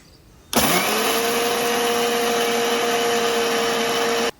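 An electric blender grinds coriander and spices, starting abruptly and holding a steady, loud whirring drone for about four seconds before cutting off.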